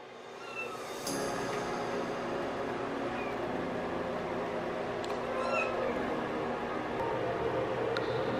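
Several kittens meow on and off in a home, small high mewing calls over a steady background hum, fairly near and moderately loud.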